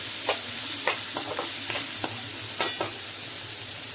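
Onions and spices sautéing in a pan for spicy red tomato chutney give a steady soft sizzle, with a handful of light scraping stirs of the spatula sounding at irregular intervals.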